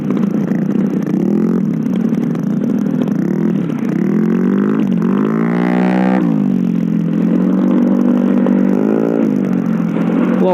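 A motorcycle rides through city traffic in Padang, Indonesia, its engine droning loud and steady with rising and falling revs as it shifts and accelerates, wind rushing throughout.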